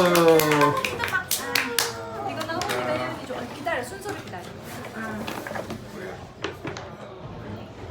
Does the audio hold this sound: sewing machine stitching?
no